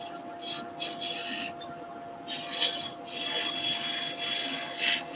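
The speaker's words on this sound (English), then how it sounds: "let's just go with our little beading and parting tool" A small beading and parting tool cuts a bead into a wooden cabriole leg spinning on a lathe, producing soft, intermittent scraping bursts over a faint steady hum.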